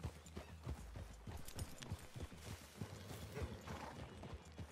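Hooves clip-clop in an uneven walking rhythm in the game Red Dead Redemption II, several horses plodding close by over soft ground through trees, with faint creaking of tack.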